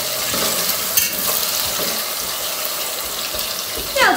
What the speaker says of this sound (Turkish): Şöyle bir kere karıştırıyorum.